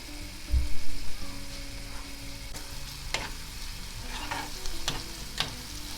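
Onions sautéing in oil in a pan give a steady close sizzle, broken by scraping stirs and a few sharper clinks of the utensil, with no talking.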